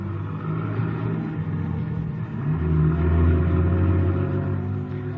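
For a radio drama, a car engine turns over and settles into a rumbling idle, then revs up louder and pulls away with a swelling drone, heard alone without voices.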